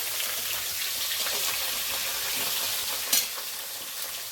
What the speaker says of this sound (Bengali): লবণ দিয়ে দিলাম দেখুন এটা ভাজা হতে থাক